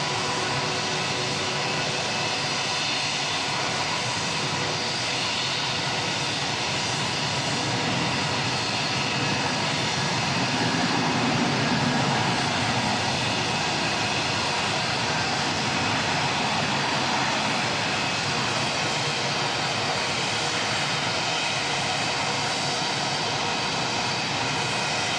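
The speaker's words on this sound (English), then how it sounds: "The Jetstar churning away in the background there." Jetstar jet airliner engines rumble and churn steadily at Auckland Airport, a broad continuous roar at moderate distance that swells slightly around the middle and holds throughout.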